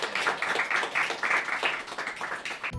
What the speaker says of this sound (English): Please join me in giving them all a round of applause